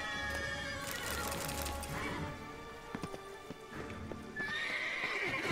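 Hooves clip-clop steadily as a horse is ridden in The Witcher 3, with a neigh near the end and no talking.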